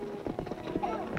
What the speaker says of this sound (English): There isn't a horse in the state that can beat Fury.